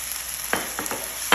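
Tomato and spices being stirred in a frying pan, a few short scraping strokes of a utensil over a soft steady sizzle, close and fairly quiet.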